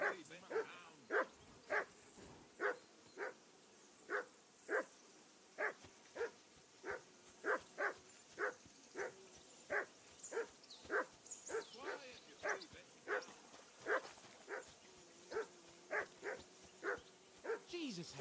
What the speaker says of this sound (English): Jesus, Harry, that barking's driving me nuts. Can you get your dog to shut its beak?